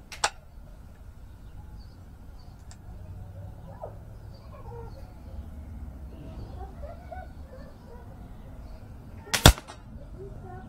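Two sharp, short cracks from a Beeman P17 air pistol fired standing at 20 metres, one at the start and one near the end, close and distinct over faint outdoor background with birds and murmuring.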